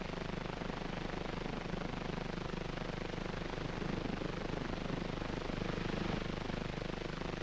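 A Piasecki 'Flying Banana' military helicopter drones steadily and loudly throughout, a constant broadband rotor and engine roar with no pauses.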